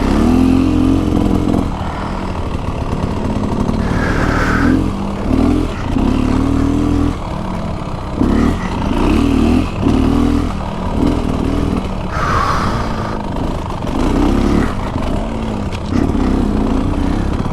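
A 2024 Beta Xtrainer dirt bike runs close and loud throughout its first ride, its engine droning and surging as the throttle opens and eases. Wind noise comes and goes over it, and no one talks.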